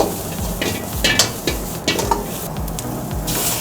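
Chopped onion, celery and capsicum stir-fried in a hot pan, with a steady sizzle and repeated scraping, clattering strokes of a spatula against the metal, loud and close throughout.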